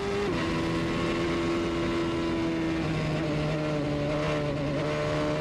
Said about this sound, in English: See, he drops the boost when he feathers the throttle.